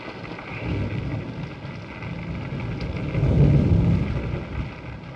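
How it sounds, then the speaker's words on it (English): Steady rain falls outside a house at night, a dense broadband wash that swells briefly louder midway, heard alone without voices. "It's raining."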